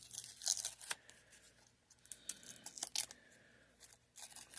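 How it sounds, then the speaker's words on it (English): Tape being peeled off the emblem of a Mercedes-Maybach, heard as crisp crackling, tearing bursts in irregular clusters with brief pauses, close and moderately quiet, no voices. "let's go ahead and get this emblem off. I mean, not the emblem, this tape off the emblem."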